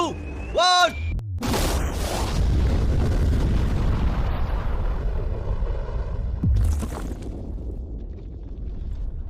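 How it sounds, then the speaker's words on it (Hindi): A large explosion blows up a safe with a sudden loud blast, then a long rolling rumble that slowly fades over several seconds, with voices heard before and after. "ये एक असली धमाका है"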